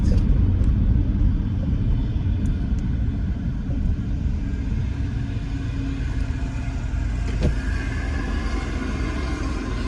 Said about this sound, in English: There was a giant tractor trailer that just went by us.